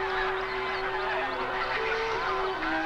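A wild goose held by hand during a banding program in the wild, honking in a continuous, loud, close, nasal stream of calls with shifting pitch, no talking over it.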